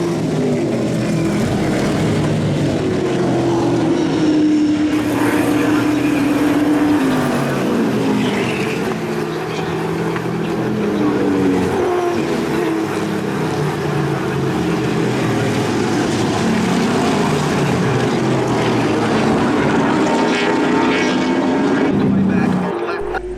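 The field of Supercheap Bathurst 1000 V8 Supercars, including Ford Falcons, roars away on the 2012 first lap, a dense, continuous engine howl with rising and falling pitch as cars pass, under crowd and commentary talk.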